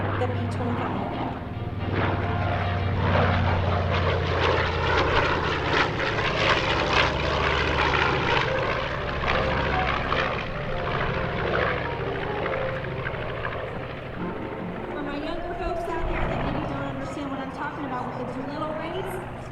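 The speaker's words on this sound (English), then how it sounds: "Here comes back around Panchito, the B-25." The B-25 Panchito, a World War II warbird bomber, roars past at an air show with a heavy, throbbing propeller drone that swells and fades, loud and continuous beneath an announcer's voice.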